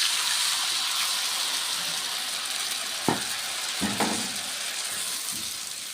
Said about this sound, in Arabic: البصل اتشوحت معايا كويس، هنزل عليها بالطماطم